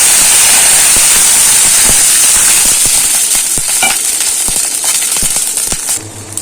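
Water is poured into a hot pan with mustard seeds and chilies while making dhokla, producing a loud, harsh sizzling hiss that fades slowly toward the end.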